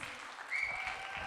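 Audience clapping at a stage show, a short, fairly faint patter of hands with a thin whistle-like tone riding over it.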